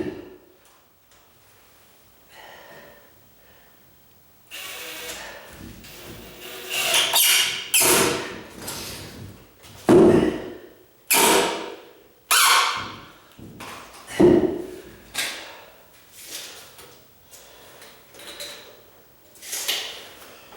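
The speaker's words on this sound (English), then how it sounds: "I'm just going to screw that bottom one in just a little bit more." A screw is driven into the bottom of a door during a condo renovation, with a run of separate, fairly loud grinding and twisting bursts in an uneven rhythm after a quiet start.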